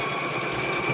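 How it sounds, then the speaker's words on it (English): Sewing machine stitching a quilt square, a steady close whirring drone running continuously for the whole brief moment, with no talk over it. "Let's stitch this on here right quick."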